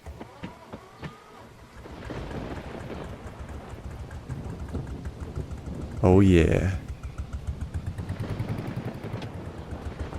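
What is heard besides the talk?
small tractor engine starting up in Farming Simulator 25 video game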